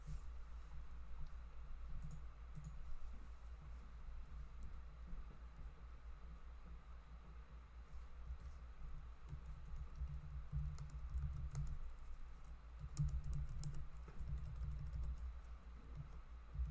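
Steady typing on a computer keyboard, a continuous patter of soft key clicks over a low background hum, close and fairly quiet with no talking.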